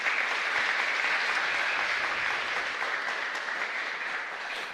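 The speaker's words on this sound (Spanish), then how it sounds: "Un fuerte aplauso." A church congregation at a chapel Mass in Luque, Paraguay, breaks into loud, sustained applause, dense clapping that holds steady and eases slightly toward the end.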